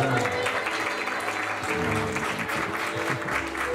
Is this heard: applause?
yes